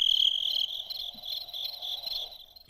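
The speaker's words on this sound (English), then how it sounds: "We have crickets all over the studio" Crickets chirp in a steady high trill, fairly faint and close, with a continuous rasping drone and no voices.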